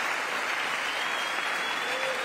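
Audience in the House chamber applauding during a State of the Union address, a dense, even wash of clapping hands throughout, loud and close.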